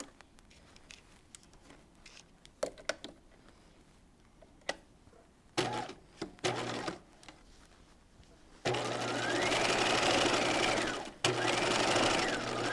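After scattered clicks and brief handling taps, a sewing machine stitches up an apron dress in one sustained, loud run of buzzing motor that briefly dips, then continues.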